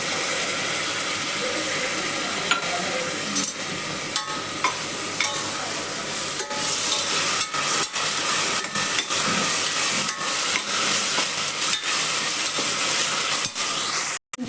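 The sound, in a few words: sautéing ginger garlic paste with onions in a pan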